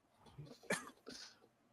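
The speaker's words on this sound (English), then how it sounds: "Those little baby coughs." A few small, quick coughs close by, quiet and brief, with a light throat-clearing sound among them.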